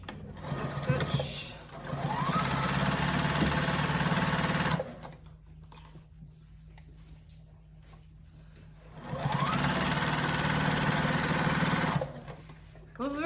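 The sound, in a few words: sewing machine stitching a placemat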